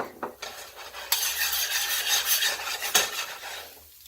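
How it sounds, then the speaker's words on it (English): Chopped garlic sizzles gently in vegetable oil in a saute pan, a soft steady hiss with faint scraping and stirring of a utensil against the pan, fading near the end. "I'm going to start out by sweating out a little bit of chopped garlic."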